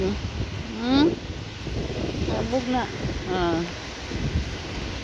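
Wind blows steadily across a high hilltop, a broad rushing noise that fills the whole stretch, with people talking close by over it.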